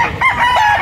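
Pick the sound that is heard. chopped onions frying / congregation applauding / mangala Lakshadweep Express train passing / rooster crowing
rooster crowing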